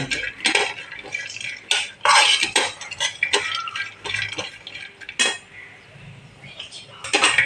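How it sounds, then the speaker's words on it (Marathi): Gram flour (besan) dry-roasting in a pan while being stirred for fried modak filling, with a spoon scraping and clinking against the metal in quick, uneven bursts, close and fairly loud throughout. "मी खवा न घालता थोडं बेसन घालणार आहे भाजून"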